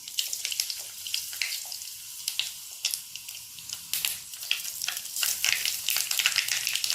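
Mustard seeds and cumin crackle and pop in hot oil for a Tamil-style spicy tomato chutney. Sharp, irregular spatters burst over a soft sizzle and grow denser toward the end, with no talk.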